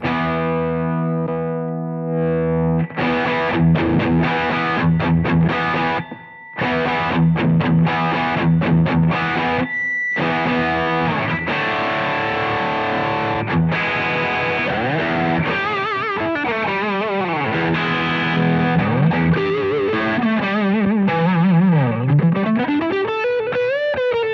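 An electric guitar through a Wampler Pinnacle Deluxe v2 drive pedal, sag switched on and off, plays loud distorted chords and riffs, breaking off briefly, then bends and slides into warbling, wavering notes toward the end.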